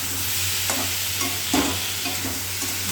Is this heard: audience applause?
no